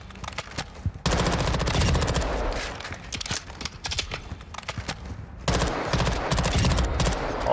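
An automatic gun fires in a PS5 video game with heavy recoil, rapid bursts of loud shots in quick succession with a short gap between volleys.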